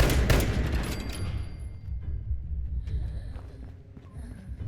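Enemy gunfire in the video game Fallout 76 opens with a loud burst of rapid shots that fades into a rumbling decay, followed by quieter scattered game effects and faint metallic tones.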